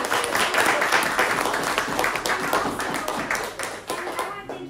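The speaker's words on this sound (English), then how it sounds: "So let's give her a round of applause" A small audience at a farm cooking demonstration claps for the cook, a lively round of close hand claps with voices talking over it.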